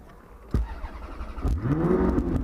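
A Ferrari California's engine cranks and fires with a sharp burst, then settles into a loud, rising and falling rev close by, with no talking.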